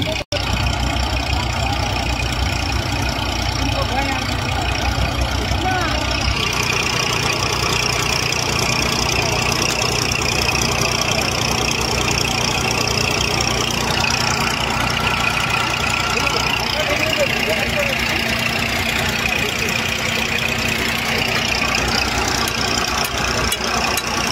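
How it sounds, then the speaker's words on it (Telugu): Tractor engine running steadily at idle near a construction site where workers fit an engine, a loud continuous low rumble lasting throughout with speech over it. "దీన్ని కూడా కిందకి దించి ఈ ట్రాక్టర్ సహాయంతో ఈ ఇంజిన్ కూడా బిగిస్తున్నారు."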